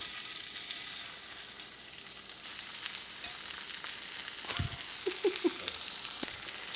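Pork breakfast sausage patties sizzle steadily in a hot cast iron pan with a little olive oil over high heat, a close, continuous frying hiss with a few sharper pops and crackles near the end.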